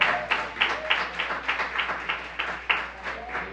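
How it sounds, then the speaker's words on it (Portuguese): A church congregation applauds, a loose crowd of hands clapping in quick uneven bursts that swell and ease over a few seconds, in a reverberant hall without talk. "Dê uma salva de palmas ao Senhor."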